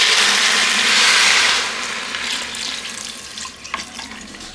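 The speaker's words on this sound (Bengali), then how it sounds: "এবার জল দিয়ে দিচ্ছি" Water poured into a pot of vegetarian khichuri cooking in a Nutripot, a loud steady gush for about a second and a half that then settles into a softer trickle with a few small splashes.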